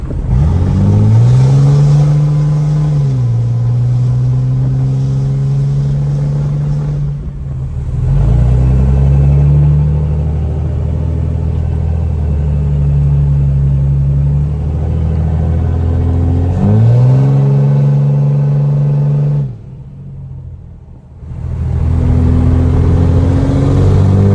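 Cummins 5.9L diesel truck engine revving under throttle, loud and close, rising in pitch on each rev, holding a steady roar, then dropping back to idle, repeated twice with brief quiet gaps between.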